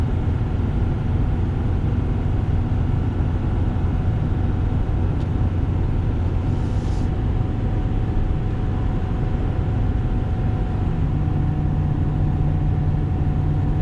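A 2021 Ford F450 towing a heavy load while accelerating gives a steady, droning low engine hum heard from inside the cab, with constant road and drivetrain rumble and no clear surges.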